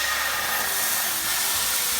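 Daikon radish hitting a hot pan with leftover fat, a steady loud broadband sizzle and hiss that holds evenly throughout with no talk over it.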